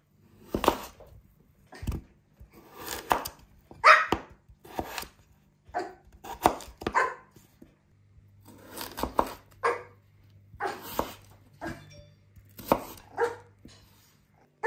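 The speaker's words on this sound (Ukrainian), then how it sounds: "Ну що, інгредієнти нарізані?" Knife chopping vegetables and a potato on a board while making pumpkin soup, a series of sharp, irregular close taps in bursts with no talk.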